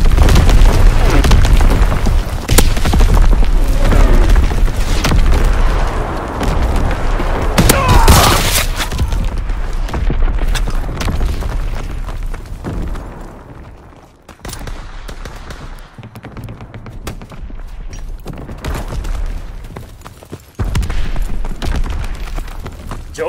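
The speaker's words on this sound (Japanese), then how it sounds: "来るぞ、敵の砲撃だ。 身を隠せ。" Enemy artillery barrage in Call of Duty WW2: heavy booms and blasts mixed with gunfire, loud and continuous, with a game voice calling out over the noise.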